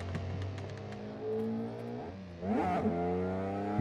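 A car engine in the Assetto Corsa racing game holds a steady drone, dips, then revs sharply upward as it accelerates and settles into a higher, louder tone, with shifting harmonic pitch throughout.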